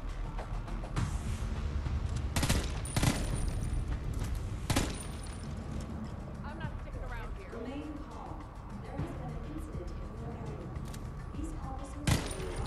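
A gun fired in Homefront: The Revolution, a few sharp, loud cracks spaced several seconds apart over steady game ambience, with a person talking throughout.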